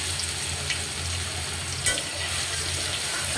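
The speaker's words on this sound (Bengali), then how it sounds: "দিয়ে দেব অল্প জিরে, একটা রসুন ছেঁচে দিয়ে দিব," Cumin seeds and crushed garlic fry in hot oil with a constant close sizzle, a low steady hum underneath and one brief sharp clink.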